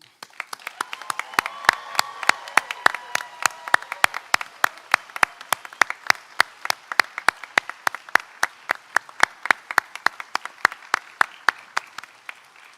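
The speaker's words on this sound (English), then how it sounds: "Please join me in applauding the graduates." An audience at a graduation ceremony applauds the graduates, with sustained, loud clapping full of sharp, distinct claps that continues steadily for the whole stretch and then thins slightly toward the end.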